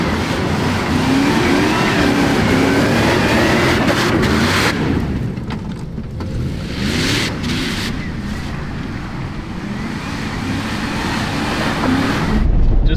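A 1997 Dodge Durango engine is held at high revs above 4,000 RPM while knocking down backyard grass, roaring continuously with rushing outdoor noise and some fluctuation.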